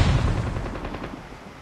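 Gunfire in Call of Duty Mobile, with a loud burst of shots at the start that trails off into a fading, rumbling echo.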